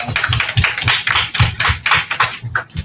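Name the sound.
audience applause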